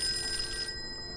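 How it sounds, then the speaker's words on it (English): A telephone rings in the Call of Cthulhu video game, a bright electronic trill that cuts off after less than a second, close and clear. "Turn off the radio, the phone rings."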